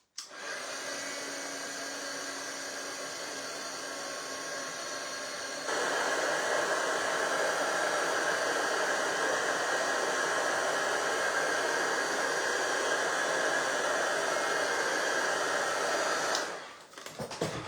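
A loud, steady blower roar from a heat tool drying craft paint runs continuously, stepping up in intensity partway through before cutting off near the end.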